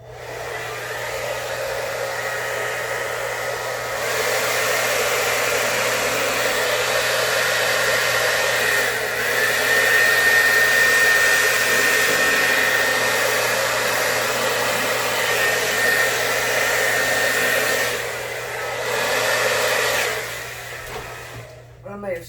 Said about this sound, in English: I'm going to blow it with the hairdryer a little bit